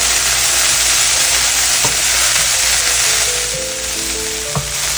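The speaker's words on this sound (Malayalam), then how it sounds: "ഒന്നും കൂടെ ഇളക്കി നമുക്ക് സ്റ്റൗ ഓഫ് ചെയ്യാം." Kerala-style beetroot thoran frying in a pan, a loud, steady sizzle with a few soft scraping knocks of a spoon stirring, close up and with no talking.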